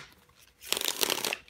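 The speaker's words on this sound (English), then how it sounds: "I love the way those cards shuffle." Tarot cards riffle-shuffled in a burst of dense, crisp fluttering clicks lasting about a second after a quiet pause, fairly close and loud, with no voices.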